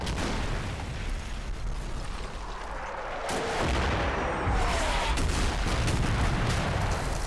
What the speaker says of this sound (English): Timed with my heavy mortar barrage.